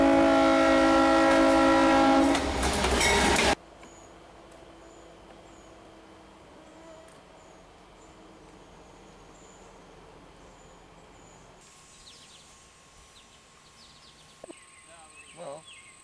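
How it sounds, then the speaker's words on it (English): A freight train passes close by on the tracks beside a hiking trail in Massachusetts, a loud rumbling roar with a horn-like tone for the first few seconds, then fading to a faint distant rumble with a few brief clanks later. "I think this is the first time I've ever sat in front of a freight train like this"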